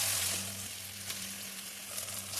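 Chopped onion with garlic and ginger paste frying in hot oil for a chicken and potato curry, a steady close hiss of sizzling with faint stirring, no talk.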